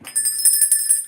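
A small bell rings in a single brief, bright, sustained tinkle, close and fairly loud, with no one talking.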